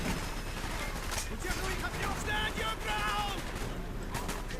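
Muffled rapid gunfire rattles through a Call of Duty: Black Ops prison escape, a steady dense barrage mixed with game noise, with someone talking over it.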